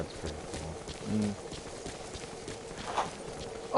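Horse hooves clip-clop in Metal Gear Solid 5, a steady trotting rhythm of soft, fairly close thuds under faint game ambience, with a short louder burst near the end.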